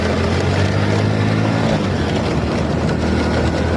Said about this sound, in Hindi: बाइक चले गई।